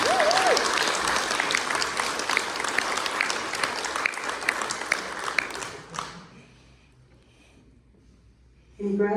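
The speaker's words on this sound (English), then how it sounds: "can we please have another round of applause for this incredible" Audience at a panel on food justice, agriculture and climate adaptation breaks into loud, dense clapping that fades out after about six seconds. A voice briefly cheers at the start, and a speaker resumes talking at the very end.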